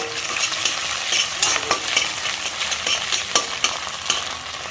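Onions frying in hot fish oil in a pan, a steady close sizzle with scattered crackling pops throughout.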